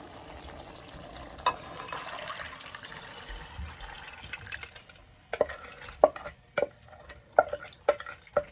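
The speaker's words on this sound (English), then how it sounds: "at this point I'm gonna pour the lentils in" Dry lentils tipped into a pot for a lentil curry, an early rushing pour followed by a series of sharp scrapes and clacks of stirring, close and fairly quiet with no talking.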